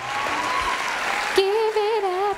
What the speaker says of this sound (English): Give it up for the poet.